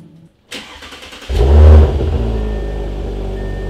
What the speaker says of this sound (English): Here we go, first startup.